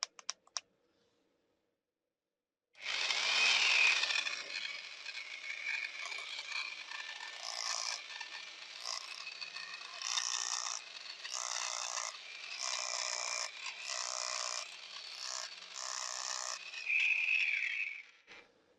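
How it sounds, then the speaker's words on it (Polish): A Parkside PES 250 A1 250 W electric scraper chisel runs with a reciprocating motion while pressed against a surface. It makes a dense, rattling buzz with rhythmic pulsing bursts that lasts about fifteen seconds after a quiet start. "Dopiero jak dociskamy, to zaczyna to pracować."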